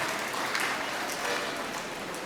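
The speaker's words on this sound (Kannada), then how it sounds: "ಅವರಿಗೆ ನಾವೆಲ್ಲ ಜೋರಾಗಿ ಒಂದು ಚಪ್ಪಾಳೆಯ ಮುಖಾಂತರ ಅಭಿನಂದನೆ ಸಲ್ಲಿಸೋಣ" An audience at a rural organisation's student award ceremony claps for its donors, a dense, steady round of applause sustained for a couple of seconds.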